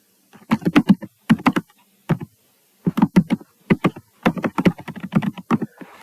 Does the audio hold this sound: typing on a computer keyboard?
yes